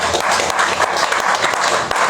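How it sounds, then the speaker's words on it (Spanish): An audience applauds the speakers at an anniversary event for a general strike, a dense, steady wash of many hands clapping throughout. "un aplauso para los compañeros"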